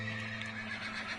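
A horse neighs softly in Minecraft, a faint whinny with a couple of brief rises over a steady humming background.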